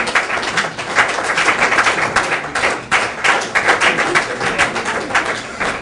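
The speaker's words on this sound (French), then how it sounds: "il faut continuer de l'applaudir" An audience applauding at a business launch event, dense steady clapping from many hands, loud and continuous throughout with no voices over it.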